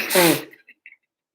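A single loud, forceful nose blow, a short breathy blast of air followed by a couple of faint sniffs, close to the microphone.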